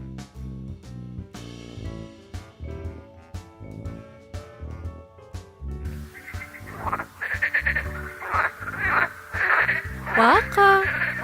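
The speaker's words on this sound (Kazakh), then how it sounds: "Бақа." A cartoon frog croaks in a children's animal-sounds cartoon. Jaunty music plays first, then a run of rising, warbling croaks stands out clearly over it.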